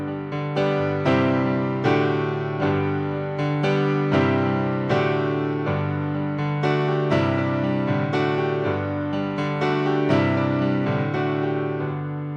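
Solo piano plays the first verse of a song in a simplified arrangement, with steady repeated chords and a melody ringing clearly and continuously with no voice.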